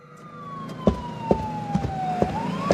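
An ambulance siren sounds in a dramatized audio story, a steady falling wail that sweeps back up near the end, with dull thuds of movement repeating underneath.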